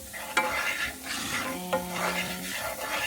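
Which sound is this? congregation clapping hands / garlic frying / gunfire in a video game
garlic frying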